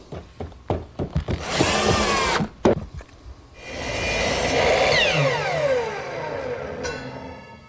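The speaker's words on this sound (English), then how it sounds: "I'm going to drop it over the frame, get it in position, and attach it with some more screws" A power drill drives screws into a wooden frame in short bursts, then runs a long whining spell as the motor rises and falls in pitch, with knocks and wood clatter close by.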